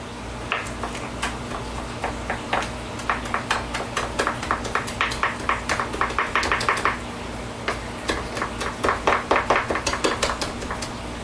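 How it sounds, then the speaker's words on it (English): A knife chopping bacon on a cutting board, a long run of sharp rhythmic knocks that speed into quick clustered bursts, close and clear with a steady low hum behind. "we're going to go ahead and just start chopping up the bacon"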